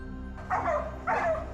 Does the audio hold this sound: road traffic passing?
no